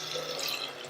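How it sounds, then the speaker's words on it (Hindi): Water is poured into fried toor dal (yellow lentils) in a pressure cooker, a brief, steady splashing gush lasting about a second. "अब हम इसमें डालेंगे पानी।"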